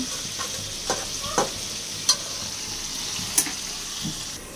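Onion, green chili and garlic sizzle steadily in a pot of oil for khichuri, with a few sharp clinks of a spoon against the pot breaking through the hiss. No one speaks.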